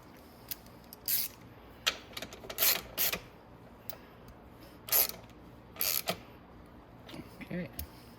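Short bursts of ratchet clicking come from work on the cylinder head bolts of a Venom X22r 250cc motorcycle, several quick close-up runs separated by pauses and small metallic clinks, with quiet handling noise between.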